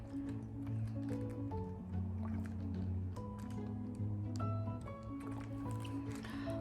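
Dye liquid is squeezed generously into a tie-dye shirt, giving soft, quiet wet squishes and drips that repeat over a faint tonal background.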